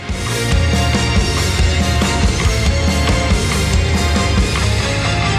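A dense, loud rock groove with a driving guitar lick in an uneven, lopsided meter over drums and bass, playing continuously.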